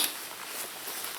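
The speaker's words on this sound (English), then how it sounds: "It's raining, but I've got a bit of cover here." Steady light rain patters outdoors on a woodland camp cover, a soft continuous hiss of drops with no talk.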